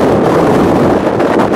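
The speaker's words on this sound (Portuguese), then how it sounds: "Hoje o vento tá bem forte" Strong wind buffets the microphone on a glacier near El Calafate in Argentina, a loud, steady, broadband roar that never lets up.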